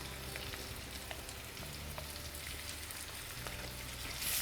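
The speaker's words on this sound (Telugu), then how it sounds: "ఫస్ట్ ఈ తాలింపులో ఆవకాయ వేసుకోవాలి" Avakaya mango pickle dropped into hot tempering oil gives a steady, soft sizzle with faint crackles, continuous and fairly quiet throughout, with no voices.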